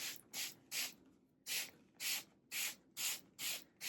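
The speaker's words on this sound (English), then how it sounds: "So I'm gonna spray that really good" A trigger spray bottle misting a yellowed embroidered crop top, about nine sharp hissing bursts in a quick, fairly even rhythm, close and quiet with no talking.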